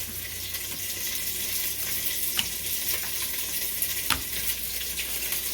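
Teriyaki chicken sizzles steadily in a hot pan as it is flipped, a continuous bright frying hiss with a couple of sharp clacks from the turn, close and alone with no talking.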